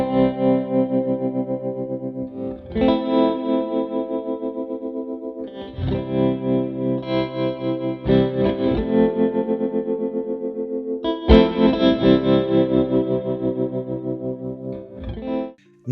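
Demo of a Constellation motion-controlled audio pedal: loud sustained guitar-like chords, heavily processed with chorus, distortion and echo, ring out in several long swelling phrases, each decaying before a new strike, with no voices.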